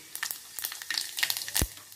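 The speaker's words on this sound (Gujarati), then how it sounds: "પછી એની અંદર આપણે 1 ચમચી જેટલું જીરું નાખશું" Cumin seeds dropped into hot oil, with mustard seeds already in the pan, crackle and pop in quick irregular bursts, close and fairly soft, with one sharper spatter near the end.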